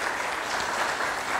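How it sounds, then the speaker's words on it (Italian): A crowd at a civic gathering of mayors in the Chieti–Pescara area applauds the prefect of the province of Chieti, the clapping a dense, even, continuous patter throughout. "facciamo, grazie, un applauso al signor prefetto della provincia di Chieti"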